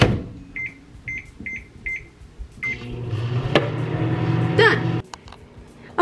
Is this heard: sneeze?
no